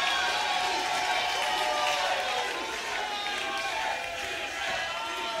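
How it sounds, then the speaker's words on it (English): A wrestling crowd at an NSPW indie show chants a wrestler's name, a loud, continuous roar of many voices with rhythmic swells that fills the hall from start to finish. "Crowd scanning Michel's name"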